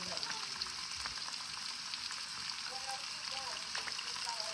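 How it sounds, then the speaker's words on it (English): Chopped vegetables fry in leftover chicken grease in a pan, giving a steady, close, moderately quiet sizzle with light crackles and occasional stirring clicks. "We're just going to dump our vegetables right into that same grease right there."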